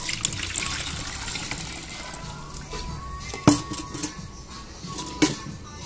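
Herbal water made with basil and chamomile poured through a strainer into a small bucket, a steady trickling splash near the mic with two sharp clanks partway through.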